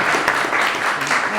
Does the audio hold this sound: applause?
yes